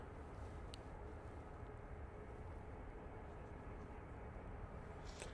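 A Pegasus Airbus A320neo airliner at Manchester Airport gives off a steady, distant roar of jet engines that holds a continuous broadband rumble throughout, with no talk over it.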